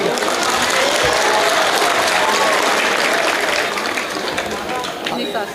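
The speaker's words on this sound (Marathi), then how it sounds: "महाराजांसाठी एकदा टाळ्या वाजवा." Crowd applause for a kirtan maharaj at a birthday kirtan gathering in Surat, a dense steady roar of many hands clapping that carries loud throughout, easing slightly near the end, with voices mixed in.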